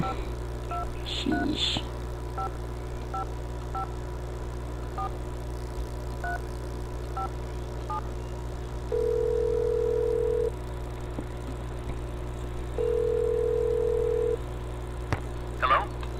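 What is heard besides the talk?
telephone dialing and dial tone in a Nancy Drew video game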